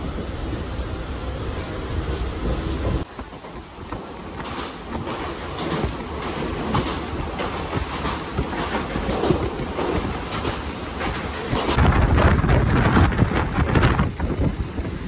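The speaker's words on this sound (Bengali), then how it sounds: "ট্রেন আমাদের ছেড়ে দিয়েছে হাওড়ার উদ্দেশ্যে" A passenger train runs toward Howrah, a loud, continuous rumble of wheels with rhythmic rattling and clatter that swells near the end.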